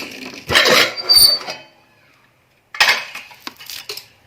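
A metal pressure cooker lid is opened after cooking kachalu, giving two loud bursts of clanking and scraping with a short quiet gap between them. A few lighter knocks follow.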